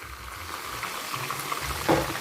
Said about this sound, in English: I'll be removing my fish from the oil